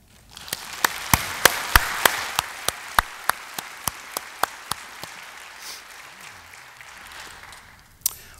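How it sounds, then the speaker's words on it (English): Conference audience at an opening plenary breaks into applause, sharp separate claps at first that quickly settle into a steady patter, then thin out and fade, with one last clap at the end. "So let's give a warm applause, please, for the organizers of this conference."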